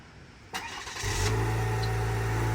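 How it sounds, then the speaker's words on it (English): A 2024 Cadillac XT4 Sport starts by remote: a click, then the starter cranks and the engine catches, rising to a steady, moderately loud idle heard from outside on a cool morning. "Let's do an automatic start and see what that is."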